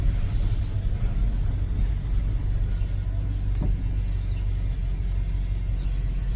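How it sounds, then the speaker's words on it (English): A truck engine idles with a steady, loud low rumble that continues unbroken throughout, heard from close by. "Let me shut my truck off and roll the window up"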